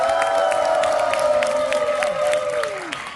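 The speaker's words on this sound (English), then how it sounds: "As she prepares for her final presentation, please give Shion a big round of applause" An audience claps steadily for a student presenter at an academic presentation, dense sustained applause with scattered cheers, while a melodic tone plays loudly over it and fades near the end.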